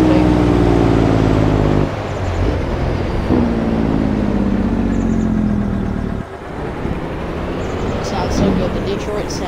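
A Detroit diesel truck engine runs loudly up close, a low throbbing rumble that idles, briefly revs with a rising tone, then drops and settles back to a steady idle.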